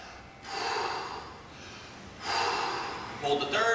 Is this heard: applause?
no